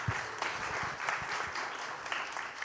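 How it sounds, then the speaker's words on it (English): Applause breaks out among the audience at an international investor forum, a brief spatter of scattered, moderately loud clapping that lasts a few seconds. "Some applause, maybe?"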